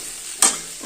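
Potato pieces sizzle steadily in oil in a wok, with a single stirring scrape midway through the quiet, continuous frying.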